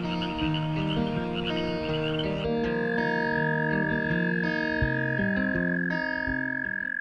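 Frogs and toads croak continuously, several overlapping tonal calls layered into a dense, rhythmic chorus that carries on throughout without any voices.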